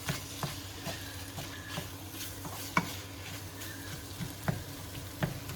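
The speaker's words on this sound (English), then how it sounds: "See how I'm just crushing them with the spatula?" A spatula crushing boiled potatoes in a pan for a potato and pea samosa filling, with soft repeated scraping knocks over a continuous low sizzle, close and steady.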